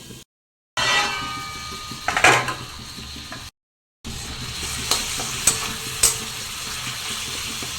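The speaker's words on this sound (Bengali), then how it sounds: "এরপর ওই তেলের মধ্যে দিয়ে দিলাম দিয়ে রান্না করব" Green moong dal going into hot oil for a tadka, with stirring and scraping in the pan over a steady frying hiss, a few sharper knocks of a spoon against the pan, and two brief silent gaps.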